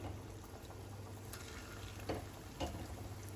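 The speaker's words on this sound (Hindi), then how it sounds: "कढ़ाई में तेल गरम कर लिया है और फ्लेम को हमने मीडियम किया है। अब छोटे छोटे हम पकोड़े इसमें बना लेंगे इस तरीके से।" Kuttu (buckwheat flour) pakoras frying in hot oil over a medium flame in a small kadai, a steady soft sizzle with a couple of brief pops, no talking.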